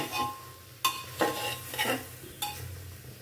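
Ridge gourd sabzi being stirred in a covered pan, lid lifted to turn it, giving a few separate scraping strokes and soft clinks over a low sizzle, close and fairly quiet.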